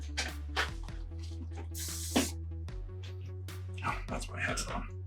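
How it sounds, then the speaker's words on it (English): Short bursts of 99.9% alcohol spray cleaning gunk from a Nintendo Switch headphone jack, a brief hissing spurt heard between a man's speech over a constant hum. "we're gonna go ahead and clean that with some alcohol"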